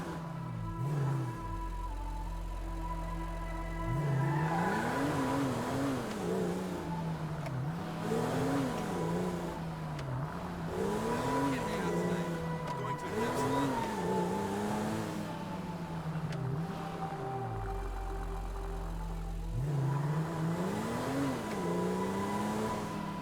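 Car engine in Grand Theft Auto V driving around a city block, revving and shifting through rising and falling pitch sweeps, loud and steady for most of the stretch with brief idle drops near the start and end.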